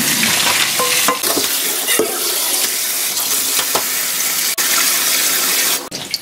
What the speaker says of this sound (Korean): 제가 찬물에 빠르게 헹굼을 해주겠습니다.